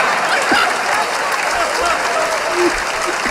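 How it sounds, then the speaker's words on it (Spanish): Studio audience at a Peruvian talk show from Iquitos bursts into steady, dense applause, a continuous wash of many hands clapping close by with faint crowd murmur underneath. "Un fuerte aplauso para ella."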